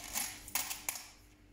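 A few light metallic clinks, three small coins dropped one after another into a thin crinkly foil boat, close and quiet.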